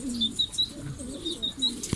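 Pigeons being fed coo in repeated soft, throaty rolling calls, close by and fairly faint, with a few higher chirps mixed in and a small knock near the end.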